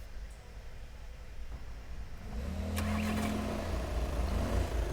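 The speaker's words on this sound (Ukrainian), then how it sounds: "слухайте і ззовні, як гарно і легко заводиться двигун Volkswagen Passat B7." The 2.0 diesel engine of a 2013 Volkswagen Passat B7 with a DSG automatic cranks and catches partway through, then settles into a steady low rumbling idle, heard close by outdoors.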